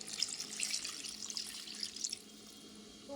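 A glass of water runs into a chicken curry in a steady splashing stream for about two seconds, then stops, leaving a quiet room.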